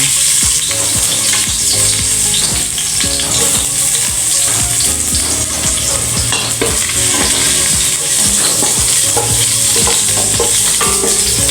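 Steady, loud sizzling of garlic frying in oil in a hot pot, with occasional stirring scrapes and no talking.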